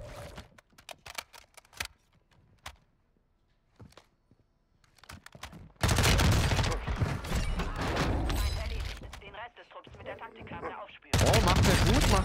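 Video game shooter gunfire, with scattered sharp single shots at first, then a loud stretch of rapid bursts and heavy shooting that cuts in and out, while a voice talks over parts of it.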